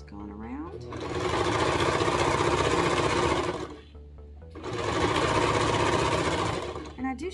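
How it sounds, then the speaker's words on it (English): A serger overlock sewing machine stitches a fabric edge right up against elastic. It plays two loud, close bursts of rapid mechanical chatter separated by a short pause, with a brief quieter whir at the start. "I am serging off this part right here, right up against the elastic"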